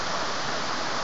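Cascade de la Frasnée, a waterfall in the Jura, gives off a steady, even rush of falling water, close and continuous for the whole moment, with no voices.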